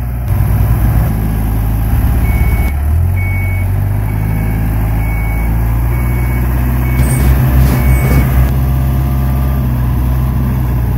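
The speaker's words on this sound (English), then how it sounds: "Unloading the truck here." A delivery truck idles loudly and close with a steady low engine rumble while being unloaded, a few faint beeps and clunks of handling rising over the drone.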